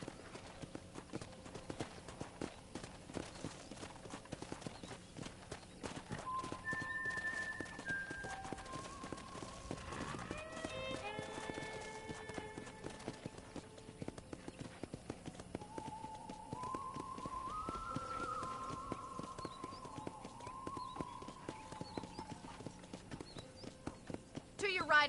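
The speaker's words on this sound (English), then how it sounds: "let's see if you can still ride a horse. Giddy up!" Horse hooves clip-clop steadily across the ground in Red Dead Redemption, a faint even rhythm under a voice talking, with a brief whinny-like tone partway through.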